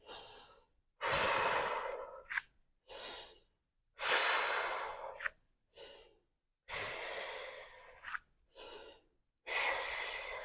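A fitness instructor breathes loudly and rhythmically during an upper-body and core workout, with strong close inhales and exhales separated by brief silences, no talking.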